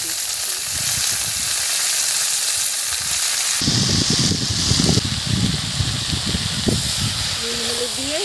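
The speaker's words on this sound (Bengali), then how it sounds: "এবার শাকটা আমি তুলে দিচ্ছি" Kalmi greens go into a hot kadai of oil with onions and garlic, and a continuous hissing sizzle surges and crackles more loudly partway through, with a voice faintly heard near the end.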